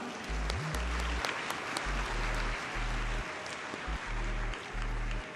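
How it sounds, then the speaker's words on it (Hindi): A rally crowd in Lahore breaks into applause after a first card transaction, a steady roar of clapping held throughout, with repeated low electronic tones pulsing beneath it. "आपकी दिल की गहराइयों से तालियां सुनना चाहूंगी"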